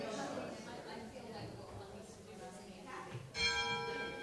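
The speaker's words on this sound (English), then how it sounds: "They ring the bell to announce the beginning" A church bell rings to announce the beginning of a morning plenary gathering, heard faintly at first under people talking, then a clearer, louder bell strike near the end.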